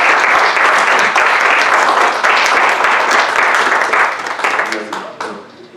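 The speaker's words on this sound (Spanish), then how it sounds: "Por eso solicito un aplauso para el doctor." Strong, sustained audience applause for a doctor at an internal medicine course, a dense wash of many hands clapping that holds steady, then thins and fades out over the last second.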